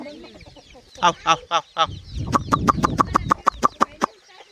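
Free-range country chickens cluck loudly and close by, a few drawn-out calls followed by a rapid series of sharp, rhythmic clucks, with faint chick peeping underneath.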